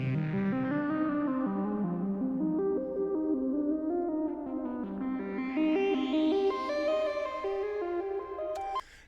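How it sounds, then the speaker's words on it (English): A second synth part from an intro song plays a melodic line of stepped notes carrying distortion, chorus and echo effects, rising into a brighter register toward the end and cutting off abruptly, heard alone with no voices. "the second synth sounds like this"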